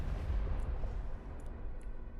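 Explosion rumble from a thrown bomb in Arknights: Endfield, a low, dense boom sustained through the clip with a couple of faint high pops, no talk.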